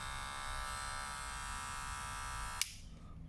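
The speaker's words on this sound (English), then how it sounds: "It's a trimmer actually. Okay, there we go, the sound check." An American Barber Clipmaster cordless hair trimmer runs with a steady, close electric buzz for nearly three seconds, then clicks off sharply and falls quiet.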